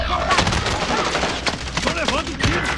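Rapid gunfire crackles in a Warzone match, with sharp repeated shots and bursts close by and loud. Voices shout briefly under the shooting.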